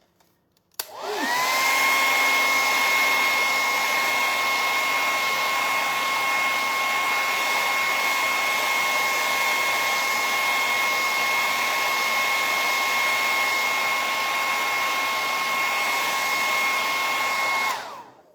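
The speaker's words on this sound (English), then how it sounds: "I will just hit that with the hairdryer a little bit for a minute." A hair dryer whirs on abruptly and blows steadily at a loud, constant pitch for a long stretch before cutting off, drying thick embossing paste on a stencil.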